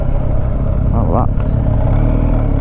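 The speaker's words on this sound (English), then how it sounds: "that's a bit of wheel spin there" A car accelerates hard on a country road in the U.K., with a brief rising squeal of wheel spin over a steady close engine drone while someone talks throughout.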